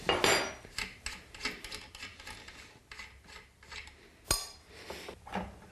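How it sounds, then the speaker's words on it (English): A spanner works the drive wheel loose on a Tormek sharpener, giving close metallic scraping and rasping strokes in a rough, uneven rhythm, with one sharp clack partway through. "Use the spanner again to unlock the drive wheel."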